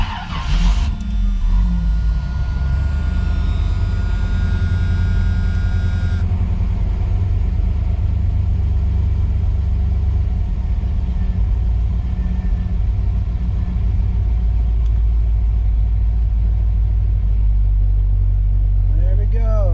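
A Kyosho Hellcat RC car modelled on a 1981 Camaro Z28 runs steadily with a constant low engine rumble and motor whine, recorded from on board. A brief burst of higher noise marks the start, and the drone holds loud and continuous throughout.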